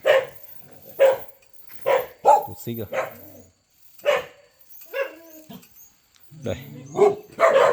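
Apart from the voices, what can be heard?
dogs barking, wild boar hunting dogs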